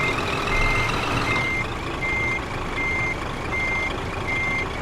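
A truck reverses a trailer in Euro Truck Simulator 2, its reversing alarm beeping in a steady, evenly spaced rhythm over a constant engine rumble, loud and near with no talk.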